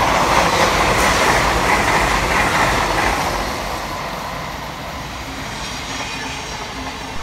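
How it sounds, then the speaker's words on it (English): A Hull Trains Class 802 passes through Hornsey station, a loud continuous broadband rush of wheels and traction noise that holds steady, then eases slightly as the train runs by, with no voices. "Next pass through for Hull Trains is 802 302 and 802 304."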